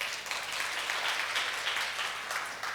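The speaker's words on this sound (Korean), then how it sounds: "박수 한번 부탁드리겠습니다." A seminar audience at a film and TV visual-effects talk gives brief, even applause, a dense wash of clapping with no talking over it.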